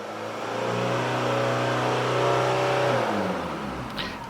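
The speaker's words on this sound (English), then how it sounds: "So let's hit the throttle right now." A car engine revs up as the throttle is pressed, holding a loud, steady rising drone for about three seconds before easing back down, with no talk over it.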